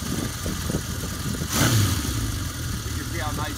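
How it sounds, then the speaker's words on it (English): A 1976 Honda CB750 motorcycle engine hums nearby, swelling into a brief rev before returning to a steady running note, while someone talks over it. "Nice running bike. I'm going to take us a little ride around the block."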